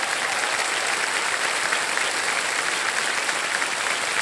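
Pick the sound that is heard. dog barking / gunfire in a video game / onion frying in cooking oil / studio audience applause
studio audience applause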